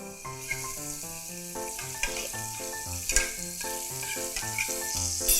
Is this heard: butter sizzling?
yes